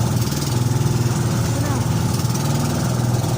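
Twin engines of a motorized outrigger boat idle and chug steadily near Palaui Island, a continuous low rumble filling the scene while someone talks over it.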